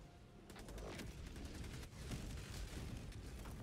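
Dense, continuous gunfire from the Helldivers video game, with rapid overlapping shots and bursts sounding close and loud throughout, with no talk.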